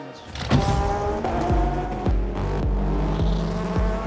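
Race car engines start and rev with sharp bursts and repeated throttle blips, loud and close, layered over a steady idle rumble, with no voices.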